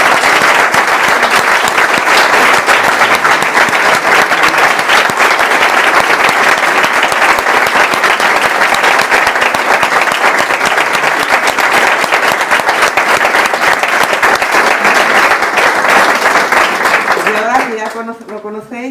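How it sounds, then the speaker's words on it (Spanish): Loud, dense applause from a live audience at a philosophy interview event, continuous clapping that fills the room for a long stretch before tapering off near the end as a voice begins. "Bueno, sencillamente un gran aplauso."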